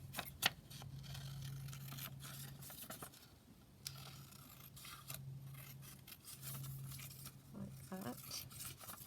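Paper being trimmed for a junk journal, with soft scissor snips and light scraping and rubbing, quiet and close against a faint steady hum.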